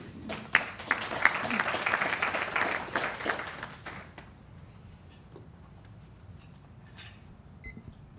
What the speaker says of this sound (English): I applaud them. So join me in welcoming Danielle and Abby.